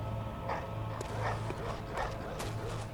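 A hostile beast dog in the video game Bloodborne lets out a few short, quiet yelping barks, spaced about a second apart, over a steady low game ambience.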